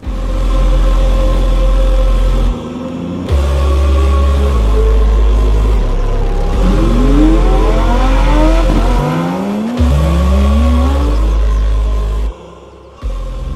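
Several cars start up and accelerate away nearby, their engines loud and close, climbing and dropping through the gears in overlapping sweeps. The engine noise breaks off briefly at a few points and there is no talking.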